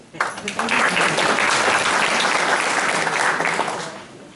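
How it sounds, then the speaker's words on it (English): Audience applause at a library trustee candidates' event, a steady wash of many hands clapping that swells quickly, holds loud and even for about four seconds, then tapers off. "We could applaud anyway."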